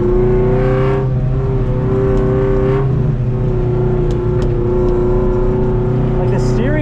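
A Toyota AE86 being drifted on a skid pad gives a loud, sustained engine drone with shifting pitch and faint tyre squeals, heard from inside the car with a person speaking over it.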